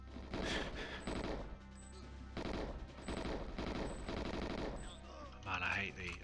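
Gunfire from a weapon in the video game GoldenEye: several loud, punchy bursts of rapid automatic shots separated by short pauses, close up, over a faint game background.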